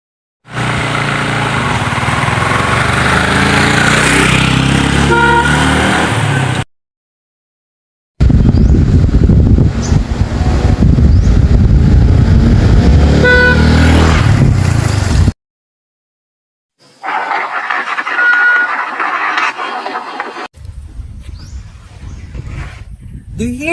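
A moving vehicle sounds its horn in three separate takes recorded at different points: two loud, steady stretches of engine roar with a tonal horn blare, then a fainter, more distant pass. Short silent gaps separate the takes.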